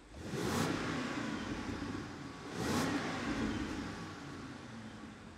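A Range Rover Sport SV fitted with an upgraded exhaust revs hard twice, each loud, close engine swell rising and easing back to a steady throaty idle.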